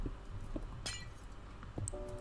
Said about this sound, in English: we're also going to place glass on the other side too